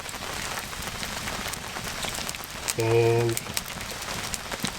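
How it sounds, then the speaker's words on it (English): Steady rain falls and patters on a surface, likely an awning, during cold-weather truck camping, a dense constant hiss with a few louder drips, while a voice speaks briefly over it. "we're starting out this trip kind of like we did a couple of trips ago with rain"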